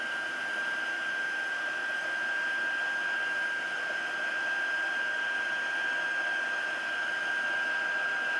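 Embossing heat tool heat-setting silver embossing powder in a stamping craft: a steady, close, continuous blower whoosh with a thin high whine, unbroken throughout.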